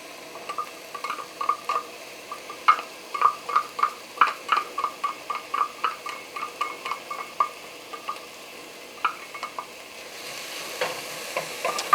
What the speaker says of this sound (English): Oh, hear that sizzle? That's going good.